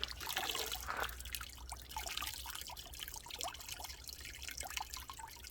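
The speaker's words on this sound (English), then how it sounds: "And we're going to empty out all our water here." Water is emptied from a Lot-O-Tumbler vibratory rock tumbler used to tumble gemstones, a close, splashy pour with uneven trickles and drips that continue for several seconds.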